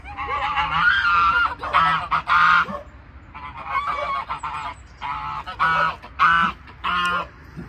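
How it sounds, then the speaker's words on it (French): Geese honk repeatedly in a garden, loud nasal calls coming in irregular bursts with short pauses between them, close by and with no talking over them. "Ouais, c'est les oies."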